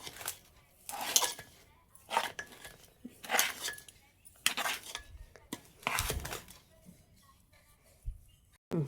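Sweet dry-ginger-powder mixture being stirred in a dish, a series of rhythmic scraping and clinking strokes of a utensil against the vessel, close and moderately loud, repeating about once a second.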